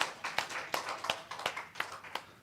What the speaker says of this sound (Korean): 우리 하나님 앞에 감사의 박수 돌리겠습니다.